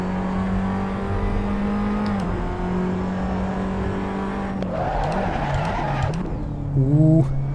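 Race car engine droning and revving through gears in the racing simulator Assetto Corsa, with tyres squealing and skidding in wavering bursts near the end, loud and continuous.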